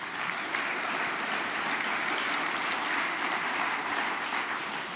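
A congress audience in a large hall applauds warmly, a dense, steady wash of many hands clapping sustained throughout at even loudness.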